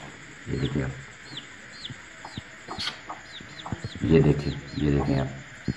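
Soft repeated clucking from a hen, with chirps from chicks, while a person talks nearby.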